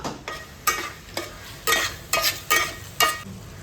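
Dried prawns cooking in a pan with onion and tomato, stirred in about six distinct scraping bursts over a steady low sizzle, close and fairly loud with no talking.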